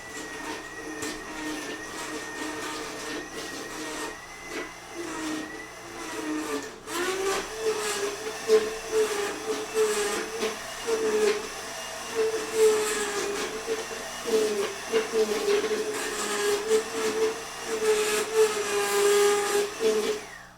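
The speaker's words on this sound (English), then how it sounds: "So what I'll do here is first I'm gonna blend it up with a stick blender." A stick blender whirs through reduced braising liquid for pressure-cooker ossobuco sauce, its motor pitch rising and dipping as it is worked through the pot, with steady hiss underneath.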